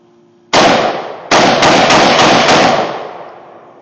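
Loud, close AR-15 rifle fire outdoors in a grove: one sharp shot, a short pause, then a rapid burst of about five shots with a ringing tail fading away.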